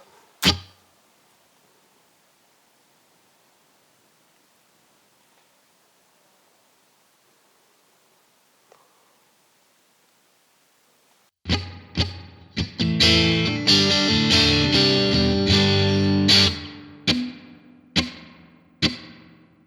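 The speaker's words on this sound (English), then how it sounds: "We'll go for spring reverb." After a long quiet stretch, a distorted electric guitar through a Fender Tone Master Pro modeler plays loud chords and sharp strums, each ringing out with a splashy, springy reverb tail.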